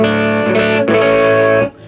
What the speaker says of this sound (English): So this is the clean channel. You can hear it's got the reverb on it.